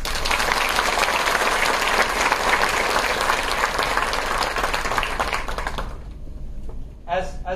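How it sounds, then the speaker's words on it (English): Applause from a seminar audience at a fireside chat with industry leaders: dense, loud, steady clapping for about six seconds that then fades out, and a voice begins speaking at the end. "A round of applause for all of you."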